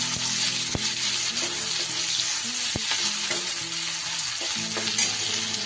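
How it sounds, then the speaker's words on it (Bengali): Raw onions fry in mustard oil in a wok, a loud continuous sizzle crackling close by with occasional sharp clacks of a stirring utensil, no voices. "এটা একটু ভেজে নেব ভালো করে।"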